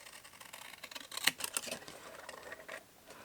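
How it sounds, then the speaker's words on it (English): Very large scissors slice through paper in a few crisp snips close up, with a sharp cut near the middle, recorded alone and fairly quiet. "I'm going to cut it before with the world's biggest scissors"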